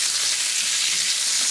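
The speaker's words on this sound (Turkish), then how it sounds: "Orta ateşte kızartabilirsiniz." Fish frying in a pan over medium heat, a continuous close bright sizzle and crackle of hot oil that holds steady throughout without any voices.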